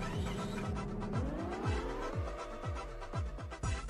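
Vehicle in a VR video game driving with a steady engine drone and repeated tire skids, a series of rhythmic squealing slides growing louder toward the end, fairly close and loud with no talk.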